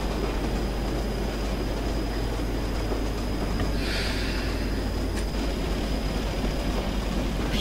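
A train engine in Train Simulator 2016 on the Bishop Auckland to Darlington line rumbles steadily with low drone and rolling noise as it brakes, a brief hissing burst rising midway, no talk.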